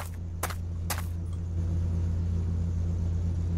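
A car engine in the video game Survival: Lost Way gives off a low, steady rumble throughout, joined early on by a couple of brief sharp noises.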